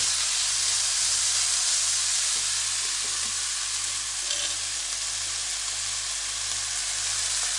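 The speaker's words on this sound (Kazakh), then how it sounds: "Енді осыған картошка қосамыз. Картошкамен қуырамыз." Potatoes fry in a pan with liver for a warm salad, a dense, loud, unbroken hiss of sizzling oil with faint stirring underneath and no voices.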